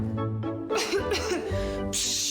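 A couple of short, harsh coughs burst out over a steady musical background in a Ukrainian cough-medicine advertisement.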